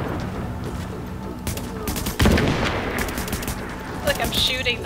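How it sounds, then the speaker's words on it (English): Video game gunfire erupts in rapid bursts of sharp synthetic shots, with a heavy blast near the middle and dense crackling volleys afterward, loud and close, under faint game ambience. "Look, I'm shooting them."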